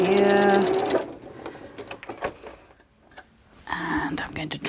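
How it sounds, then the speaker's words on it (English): A sewing machine stitches quilt fabric in short runs, its rapid mechanical ticking close and clear, with pauses and soft handling noises between bursts. "So we're just gonna do that, sewing absolutely in the middle,"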